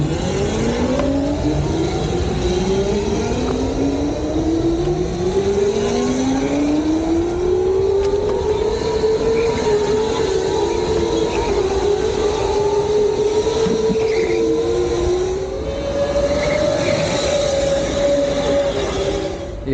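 Several go-karts race on an indoor track at the Entertainland mall in Gurgaon, their engines whining in rising and falling pitches that overlap continuously and loudly throughout, with no talking.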